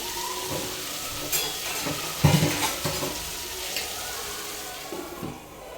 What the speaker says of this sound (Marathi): आता दोन मिनटं झालेली आहेत आपला मसाला चांगला भाजला असेल